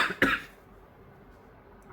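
A single sharp cough near the start, close and loud, followed by quiet room tone.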